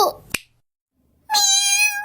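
An orange cat lets out one clear, high, drawn-out meow up close after a brief sharp click and a moment of silence.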